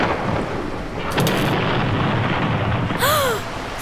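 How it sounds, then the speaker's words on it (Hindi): A cartoon-style thunder crack in a spooky Halloween farm song scene, a broad rumbling burst with a sharp crack near the start and a brief whooshing sweep near the end, loud and alone. "क्या तुम्हें बिजली कड़कती दिखी?"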